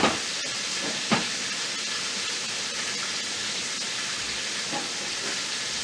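Steady, loud steam hiss from an Instant Pot cooking field peas fills the whole stretch, with a couple of brief clicks and knocks near the start.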